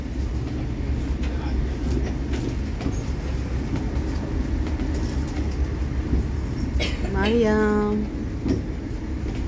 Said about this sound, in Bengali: এখন ট্রেনে আছি আমরা